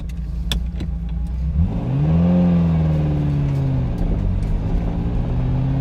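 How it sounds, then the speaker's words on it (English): A Ferrari Enzo replica's engine idles, then revs up in a rising, sustained drone that holds steady, loud and close, with no talk over it. "I'll show you first what it actually does as it is right now"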